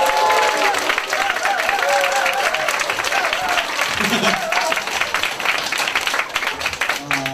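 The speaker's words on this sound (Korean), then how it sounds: "필리핀으로 박수 부탁드리겠습니다." Seminar audience in a hall applauding, dense continuous clapping throughout with a voice speaking over it.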